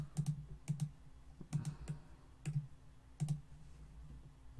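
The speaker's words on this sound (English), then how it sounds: "I'm sure you can hear my spam clicking." Rapid bursts of mouse clicking while playing Old School RuneScape's Fight Caves: quick clusters of sharp, close clicks repeat about every second, over a faint low hum, with no talking.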